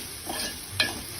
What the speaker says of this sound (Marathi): कांदा छान थोडा तेलात लाल होऊ देते.